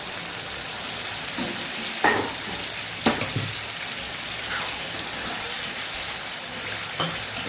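Hot water hits a sizzling Kathiyavadi ridge gourd curry, a steady bright frying hiss with a few clacks of a spoon against the pan, fairly close and without talk.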